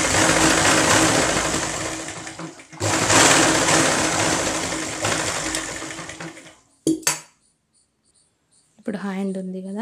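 A sewing machine stitches a lined 32-inch belt blouse in two loud, close, continuous runs with a brief pause between them, then stops; someone speaks briefly at the end.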